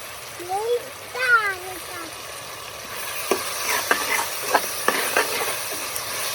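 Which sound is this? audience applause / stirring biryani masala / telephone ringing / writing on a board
stirring biryani masala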